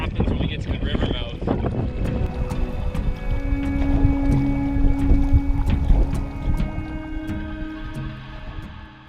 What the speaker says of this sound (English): the wind is definitely picked up compared to the last couple days